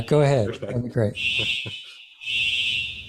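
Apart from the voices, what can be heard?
fire alarm going off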